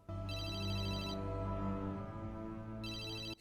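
A phone rings with a trilling electronic tone in two bursts over a steady low hum, with no voices.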